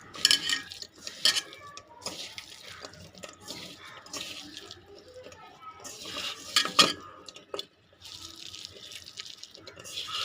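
Wild leafy greens mixed with oil and squeezed by hand in a pot, with wet squelching, scraping and clinks of the metal pot in irregular bursts, fairly close.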